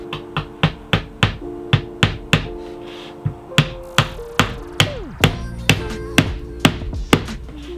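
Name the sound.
hammering nails into plywood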